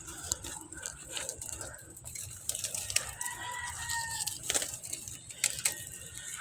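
Pigeons crowd a loft just before release, with soft cooing, scattered calls and bursts of wing flutter, moderately close and continuous.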